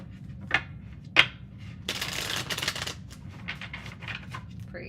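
Tarot cards are shuffled close by in a quick riffle burst, preceded by a couple of sharp taps and followed by lighter card rustles over a quiet room.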